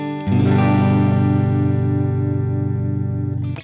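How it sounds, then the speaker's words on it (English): A single sustained electric guitar chord rings out through the Strat-style middle pickup position, struck once and left to decay evenly for several seconds, close and clear with a slight chorus shimmer, no talking. "the middle position like you get in a Strat. That sounds something like this"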